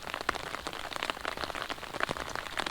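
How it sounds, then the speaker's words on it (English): Steady rain patters outdoors in a dense, even hiss of drops striking surfaces, moderately quiet and close, with no voices. "Well, it's raining again."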